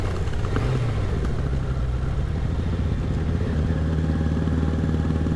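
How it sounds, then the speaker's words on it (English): A 600cc motorcycle rides down a narrow lane, its engine holding a steady, loud drone with a low rumble that never lets up. "quite good fun to take a big 600cc bike down a little narrow lane"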